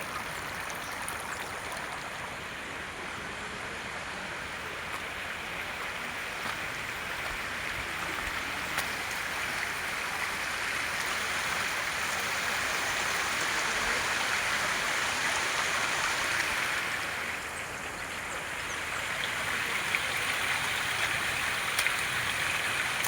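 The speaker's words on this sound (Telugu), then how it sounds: "మంచు గడ్డగట్టి మెల్లమెల్లగా కరిగి వాటర్గా మారి ప్రవహిస్తుంది" Meltwater stream flowing down from a snow mountain near the Baltal base camp on the Amarnath route: a steady, broad rushing and gurgling of water, moderately loud and unbroken throughout, with no voices.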